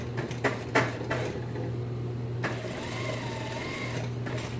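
A sewing machine stitches a front pocket onto elastic-waist pants, a steady close mechanical whir punctuated by a few clicks and knocks from handling the fabric.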